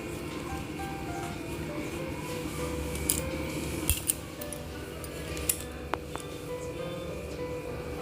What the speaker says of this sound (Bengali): সেগুলোকেও আমি কেটে নিচ্ছি